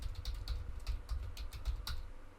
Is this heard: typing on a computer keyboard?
yes